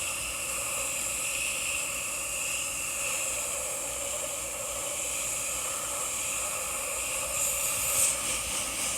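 A pressure washer sprays sodium hypochlorite onto a house exterior, making a continuous steady hiss at moderate distance that swells slightly near the end.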